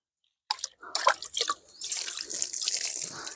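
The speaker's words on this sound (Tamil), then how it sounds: "இப்போ வந்து இன்னும் நல்லா கழுவி எடுத்துக்கலாம்." Tap water runs and splashes while a tube light glass is rinsed, a close, steady gush of water with drips and spatters and no talking.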